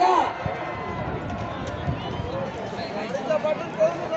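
Bulls galloping in a bullock cart race, rapid drumming hoofbeats and rattling cart under crowd noise and excited shouting.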